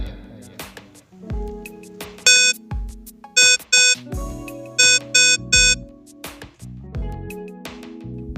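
Morse code beeps sound out the letter KH, four dashes, as sharp repeated electronic tones in a steady, evenly spaced pattern over a backdrop of tonal electronic sounds.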